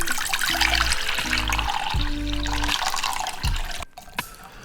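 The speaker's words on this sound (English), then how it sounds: "now let's combine our wet ingredients." Wet ingredients being combined for a gluten-free, oil-free vegan rustic loaf: liquid pours and splashes into a bowl in several short bursts, fairly close and distinct, followed by a brief knock near the end.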